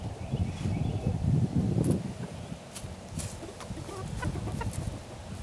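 Hens cluck softly in a backyard coop where one sits laying an egg, with low murmuring clucks and a few sharper calls over rustling movement.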